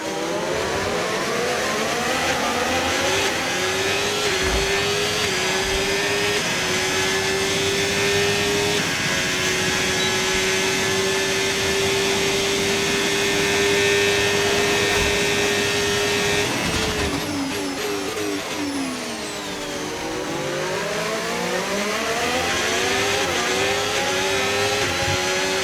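Formula 1 race car engine in the F1 25 game at Miami, a loud sustained high-pitched whine holding steady near flat out, then dropping and rising again through gear changes late on, continuous with no talk.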